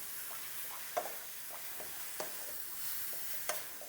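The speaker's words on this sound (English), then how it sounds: "Stir it up for a little bit longer." Cauliflower fried rice with leftover steak is stirred in a pan, a soft, quiet sizzle with a few distinct scrapes and taps of the utensil spaced a second or so apart.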